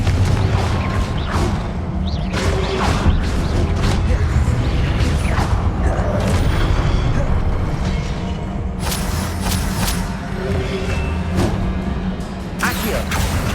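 Confringo spell blasts in Hogwarts Legacy: repeated booming explosions with crashing debris and whooshes, layered over a steady rumble of game sound, recurring every few seconds and fairly loud.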